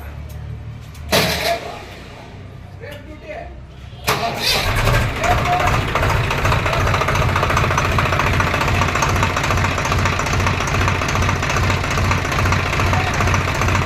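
A tractor engine whose seized head valve has just been repaired cranks and fires after a few seconds, then settles into a loud, steady, rhythmically thumping idle, with people talking nearby.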